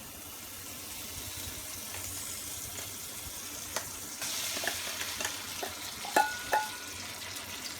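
A pork mixture stir-fries in oil in a wok, a steady sizzle under scraping and stirring that grows busier and louder midway, with a couple of sharp metallic clanks near the end.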